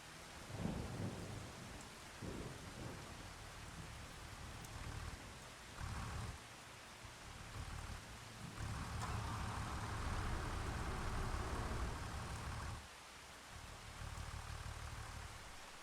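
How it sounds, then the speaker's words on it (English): Heavy rain falls steadily while deep rumbles of thunder roll through in Farming Simulator 25, with no one speaking. "I want to get past this rain"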